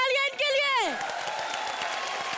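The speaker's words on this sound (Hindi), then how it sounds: "जोरदार तालियां इनके लिए।" A television comedy-show studio audience breaks into applause and cheering after a sung, falling vocal phrase, the clapping a dense, even patter that carries on steadily at moderate loudness.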